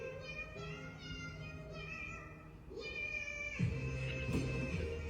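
A cat meows several times over faint background sound, the calls soft and fairly close, with a few rising cries.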